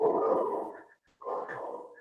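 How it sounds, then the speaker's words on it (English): An American Staffordshire Terrier gives two fairly loud barks separated by a short pause, heard indoors over an online call. "Sorry, that's just my dog."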